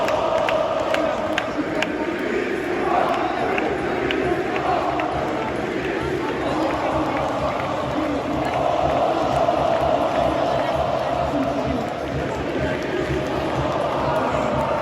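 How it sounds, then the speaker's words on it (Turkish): Beşiktaş football fans at a stadium match against Gaziantep chant loudly and continuously for the club management to resign, a dense roaring crowd filling the whole stretch. "Ahmet Beşiktaş'ı terk et tezahüratlarında bulunuyor."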